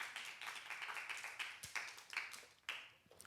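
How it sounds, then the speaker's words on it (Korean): A church congregation applauds during a Thanksgiving worship service, a short spell of light, fairly faint clapping with a few sharper individual claps. "큰 박수를 올려드리겠습니다."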